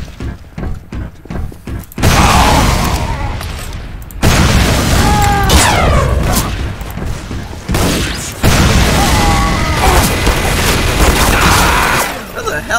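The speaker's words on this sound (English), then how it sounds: "I'm just glad I know how to shoot people with a rocket." Loud booming rocket launcher blasts from a video game rumble in long roaring bursts, with a run of quick thumps before the first big explosion and shorter gaps between later ones.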